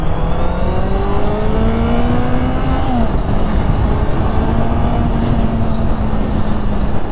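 Honda CB650F motorcycle, a 2014 ABS model, revving hard with the throttle pinned in second gear, a loud continuous engine note whose pitch climbs steadily, dips at a shift, then climbs again, with no talking.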